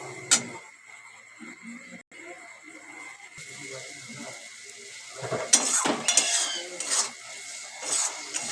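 Spice masala being stirred in a cooking pan with a little water, giving scraping and sizzling sounds, with sharper clinks of the utensil against the pan that grow busier toward the end.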